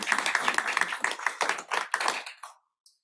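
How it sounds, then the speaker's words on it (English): A small audience at a school board meeting gives a short round of clapping, crisp individual claps close by that thin out and stop after about two and a half seconds. "let's please clap it up for Miss Amita"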